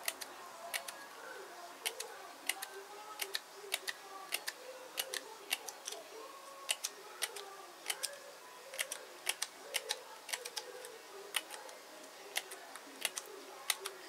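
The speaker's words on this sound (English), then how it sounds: "So I'm going to cut my fringe on this one here." Scissors snip a paper fringe for a Polaroid frame embellishment: many quick, crisp, close clicks in an irregular steady rhythm, quiet and alone without talk.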